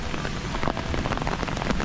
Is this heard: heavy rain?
yes